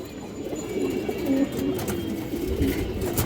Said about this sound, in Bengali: হাই কোয়ালিটির এক জোড়া কালো গলা কবুতর দর্শক